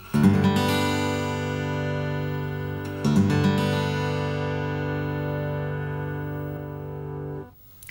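Acoustic blues guitar strummed in an open tuning with the first string tuned down to D, a full ringing chord struck twice and left to sustain and slowly decay.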